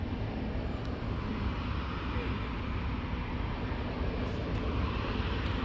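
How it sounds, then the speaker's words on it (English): A small private jet passes overhead, its steady, broad roar holding at an even level for the whole stretch without fading in or out. "That's a tiny private jet."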